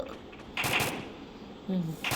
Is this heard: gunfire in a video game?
yes